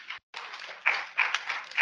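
A conference audience bursts into clapping, with a brief gap near the start and then sustained applause swelling in a few waves, fairly close, with no talking.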